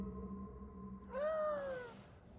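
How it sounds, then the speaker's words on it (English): A lone cat gives one drawn-out, rising-then-falling meow outside a family's front door at night, heard faintly over a low steady hum. "the family wakes up after hearing what sounds like a cat meowing at their front door"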